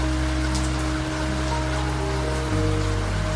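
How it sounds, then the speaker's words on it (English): Steady, close rain patters on a train window aboard the Coastal Pacific Express on a wet night, an even hiss with a low rumble of the moving train beneath. "Outside, the rain is doing what the rain does."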